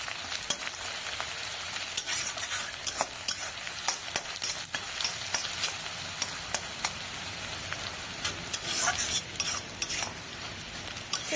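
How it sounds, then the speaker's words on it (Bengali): Onions sizzle in a pan with a little salt, a steady frying hiss broken by frequent scrapes and clinks of stirring, close up and with no talk. "এবার বেশ পেঁয়াজটা লালচে লালচে করে ভেজে নিতে হবে।"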